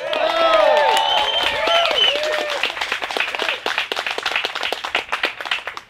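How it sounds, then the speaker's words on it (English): A rally crowd bursts into applause and cheering for Ron Paul supporters, loud clapping with excited shouts and whoops early on, thinning into scattered individual claps toward the end. "Well, I'll let the applause speak for itself on that one"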